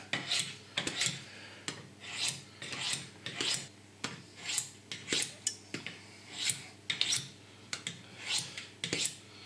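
Rapid, rhythmic rasping strokes of a Sika 100 survival knife from Decathlon being honed on a sharpening steel, about a dozen quick metallic scrapes in a steady back-and-forth pattern, close and clear with no voices.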